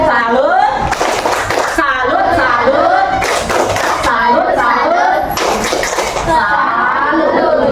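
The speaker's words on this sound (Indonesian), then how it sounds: "Kita berikan tepuk tepuk salut" A sixth-grade class performs the tepuk salut, a patterned group clap. Sharp bursts of many hands striking together recur at intervals between stretches of children's chanting voices.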